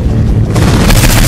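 Red barrels explode in Saints Row IV, a loud, dense blast of rumbling noise that swells into a broad roar with no talking.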